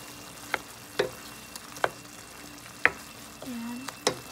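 Garlic tiger prawns fry in margarine, a soft sizzle broken by several sharp utensil clicks against the pan spaced roughly every half second to a second, heard up close.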